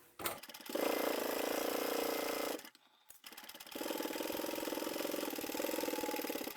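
A sewing machine stitching along the pocket of a large fabric bag, running in a steady close whir, pausing briefly for a near-silent gap, then starting again and running evenly to the end.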